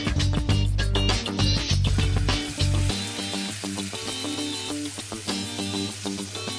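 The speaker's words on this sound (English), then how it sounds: "So we're going to take our skewers on the pan, seal them." Skewers sear in a hot pan with a steady, loud sizzle, overlaid by clinks and scraping of utensils and a low hum in the first half.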